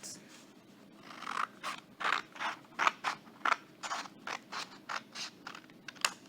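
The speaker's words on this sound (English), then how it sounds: "You're going to try to cut down the line." Scissors cutting paper along a drawn line: a steady series of about a dozen crisp snips, close and clear, with short pauses between cuts and no talking.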